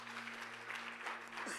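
A congregation applauds loudly and continuously at a church service, dense clapping filling the whole stretch without a break.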